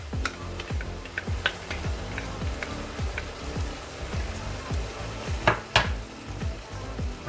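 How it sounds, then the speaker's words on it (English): Tomato puree going into a pot of Transylvanian beef goulash, with steady rhythmic stirring scrapes over a lively sizzle and occasional sharper clinks of a utensil against the pot. "Now we're gonna put the tomato puree in."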